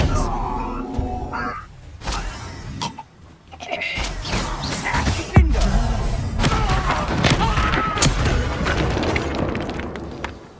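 An Expelliarmus disarming spell in Hogwarts Legacy lands amid magical combat, with a sharp heavy thud midway, then booming, crackling effects and scattered thumps, loud and busy, with some voice sounds mixed in.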